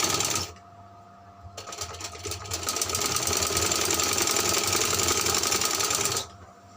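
Sewing machine stitching a frill onto a frock: a short whir, a pause, then a steady, fast mechanical rattle running for several seconds before stopping, close and loud.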